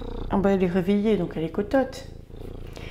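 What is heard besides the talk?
cat purring into the microphone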